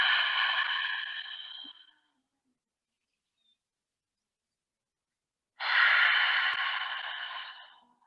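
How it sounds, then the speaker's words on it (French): Two long, audible mouth exhales during a yoga warm-up, each a breathy rush that fades out, separated by about three seconds of silence; close and fairly loud, no talking. "Expire par la bouche"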